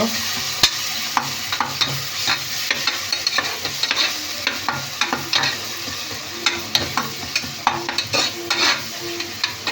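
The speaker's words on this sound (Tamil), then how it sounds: "மல்லி புதினா பொருளை வதக்கிக்கலாம்" Coriander and mint leaves sautéing in a pan for a Bombay mutton kulambu, continuous sizzling and crackling with frequent rhythmic spatula scrapes and taps, close and fairly loud without speech.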